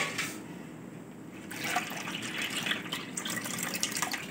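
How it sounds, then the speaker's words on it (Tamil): Water is poured into rice flour in a kitchen vessel, a close, steady gushing splash that grows fuller after the first moment and continues without a break. "2 கப்பு தண்ணி ஊற்றியாச்சு"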